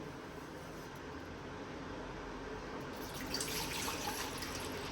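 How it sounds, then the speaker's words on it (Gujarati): Cold water pours steadily into a vessel for lemon sherbet, a continuous close splashing stream that brightens and grows slightly louder toward the end. "પેલા તો ઠંડુ પાણી એડ કરી દઉં."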